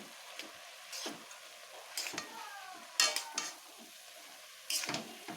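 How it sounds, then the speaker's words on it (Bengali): Turmeric being stirred into wax gourd and small fish in a pan, with several distinct scraping, clinking strokes of a utensil against the pan over a quiet background. "এবার হলুদটাকে একটু ভালোভাবে মিশিয়ে নেব"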